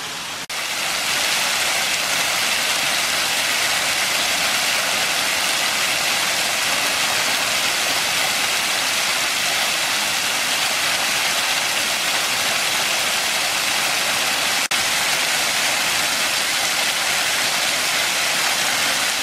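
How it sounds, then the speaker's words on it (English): A waterfall on Borden Creek in the Sipsey Wilderness of Bankhead National Forest, Alabama, roars steadily and loudly as a dense, unbroken rush of falling water with no voices. "You got to find this waterfall."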